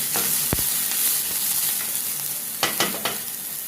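Onion frying in a pan for a cauliflower curry, a steady close sizzle throughout, broken by a few sharp scraping stirs of a spoon against the pan.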